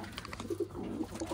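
Wantai pigeons cooing softly in a loft, a few low, throaty murmurs repeating close by with faint background noise.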